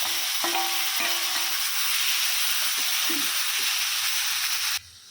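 Roughly chopped tomatoes hiss and sizzle steadily in a hot frying pan while cooking palak paneer, with a few soft stirring knocks, close and fairly quiet, before the sizzle drops away at the end.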